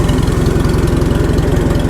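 An old tractor engine idles close up, a loud, even low-pitched chug with quick regular firing pulses and no other sound.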